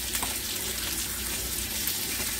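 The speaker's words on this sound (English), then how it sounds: "I got water going, my steak cooking in the back to go with for a salad." Water runs steadily from a kitchen tap as a broad, continuous hiss, with a steak frying in the background of the same kitchen.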